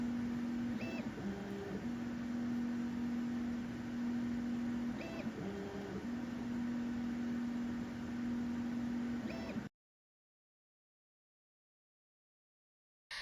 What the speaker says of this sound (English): The machine begins by performing Auto Leveling.